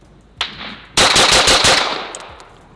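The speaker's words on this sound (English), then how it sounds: "So I'm just gonna go shoot again and see if I can clean it up." A Bul Armory Blaze 2011 pistol fires a rapid competition string, one sharp crack followed by a fast, loud burst of closely spaced shots echoing outdoors.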